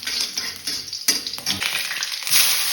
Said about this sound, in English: Keep the flame on high. Later 1 minute, add chopped ginger and garlic.